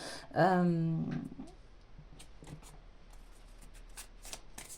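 Cards being shuffled for a card reading, a crisp riffle of flicking cards following a short vocal sound at the start, then scattered soft card snaps and handling noises, close and moderately quiet.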